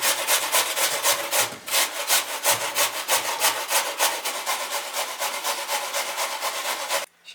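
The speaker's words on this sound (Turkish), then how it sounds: "Evet patatesimi de rendeliyorum." A potato is grated by hand for vegetable soup, making rhythmic rasping scrapes at about two strokes per second that continue steadily before stopping abruptly near the end.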